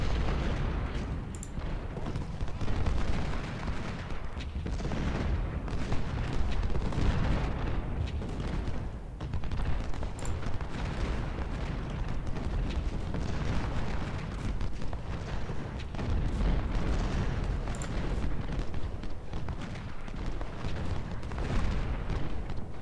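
Dense, continuous American Civil War battle din of massed musket volleys and booming artillery from a Union railroad fight in Georgia, with rolling blasts and crackling gunfire layered without pause and no clear voices.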